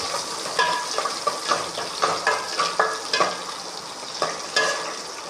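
Onions fry in hot oil for a Tamil kara kuzhambu, with a soft steady sizzle broken by repeated scraping and stirring strokes of a spoon against the pan. No one speaks.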